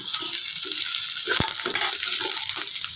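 Cumin, garlic and curry leaves roasting in a pan for drumstick-leaf chutney powder, giving a steady, bright frying sizzle with faint stirring scrapes throughout.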